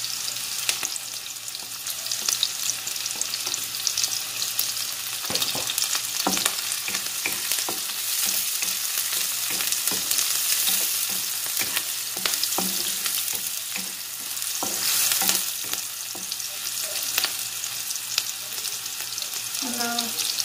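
Garlic sizzles in a hot pan for seafood pancit sotanghon, a steady loud frying hiss broken by occasional stirring clicks and scrapes, with no talking.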